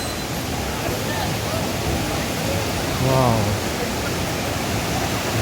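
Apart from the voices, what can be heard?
waterfall rushing water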